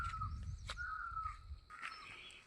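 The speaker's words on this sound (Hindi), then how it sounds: "कैसी आवाज़ चिड़िया कर रही है।" A bird, probably a crow, calls repeatedly in a mountain forest in Uttarakhand, its harsh cries carrying from a moderate distance over a quiet outdoor background.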